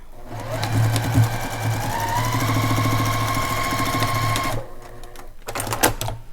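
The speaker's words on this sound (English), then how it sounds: "Line your next one up and sew it." A sewing machine runs steadily as quilt block pieces are stitched, a loud continuous motor hum with rapid needle chatter for about four and a half seconds before stopping, followed by a few soft handling sounds.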